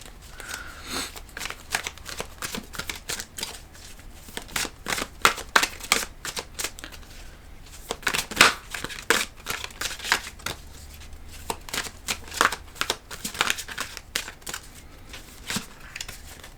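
A deck of tarot cards being shuffled by hand, with dense riffling and slapping bursts that keep coming in quick clusters for the whole stretch, close and fairly loud, with no talking.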